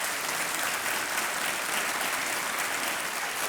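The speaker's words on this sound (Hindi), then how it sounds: "तालियां एक बार इनके लिए बज जाएं।" Studio audience applause rises for a contestant on the quiz show Kaun Banega Crorepati, a thick, constant roar of clapping that stays loud and level throughout.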